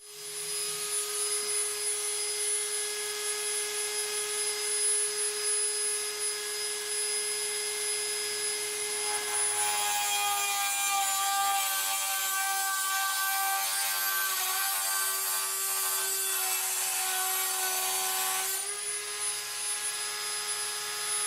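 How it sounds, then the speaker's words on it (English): A Dremel rotary tool whines steadily at a high pitch, then bites into a computer power supply casing for several seconds with a harsher, denser grinding before easing back to the free-running whine. No one speaks. "it's now time to have some fun and chop the power supply up with a Dremel"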